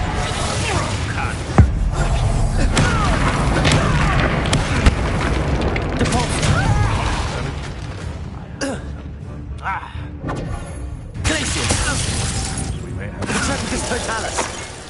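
Confringo fire spells exploding during spell combat in the Hogwarts Legacy video game: repeated loud booms, thuds and shattering bursts over dense game music and effects, with scattered voices.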